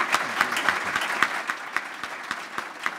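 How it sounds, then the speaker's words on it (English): Audience applause for a panel of speakers at an evening event, a burst of clapping from a modest crowd with distinct individual claps standing out, steady then thinning slightly. "Let's give a round of applause to our panelists."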